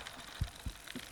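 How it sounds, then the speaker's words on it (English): Heartbeat effect in the Bassmaster Fishing 2022 video game, fishing for trophy largemouth on Lake Chickamauga: three or four soft, low thumps at a steady pulse, faint and alone against a quiet hiss. "Heartbeat and everything."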